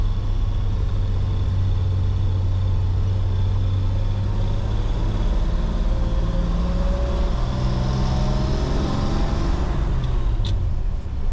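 A 1949 GMC 100 pickup rolls along a broken, bumpy road, its low engine rumble and road noise heard steadily from inside the cab, with faint rattles and a small knock near the end.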